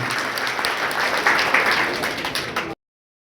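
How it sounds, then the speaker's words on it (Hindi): Party workers at a political membership rally burst into vigorous applause, a dense, close wash of clapping for under three seconds before it cuts off abruptly. "एक बार अपने लिए जोरदार ताली बजा दें अपने लिए।"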